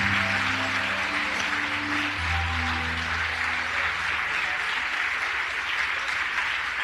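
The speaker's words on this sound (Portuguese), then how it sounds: "Vamos aplaudir mais o Senhor." A church congregation applauds steadily for several seconds in a large worship hall, a broad even wash of clapping heard at moderate distance, with sustained organ or keyboard tones underneath.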